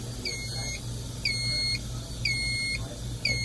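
A MiniStar S suck-down thermoforming machine gives four evenly spaced, fairly quiet electronic beeps about a second apart during its heating countdown, over a low steady hum.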